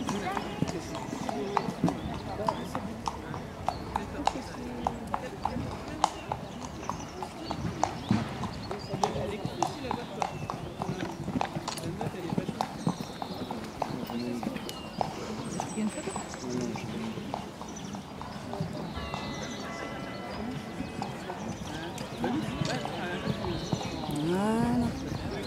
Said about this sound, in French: On va voir les chevaux à côté.